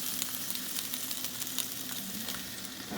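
Meat with a Dijon mustard rub searing in hot oil in a pan just after being flipped, giving a dense, continuous crackling sizzle with scattered sharper pops, close up and with no voices.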